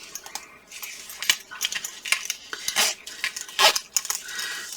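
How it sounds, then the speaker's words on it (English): Metal zipper pull being attached to a zipper while sewing a bag, a series of close, bright metallic clicks and small jingles in irregular bursts, with one sharper rattle near the end. "now we're just going to go ahead and attach our zipper pull"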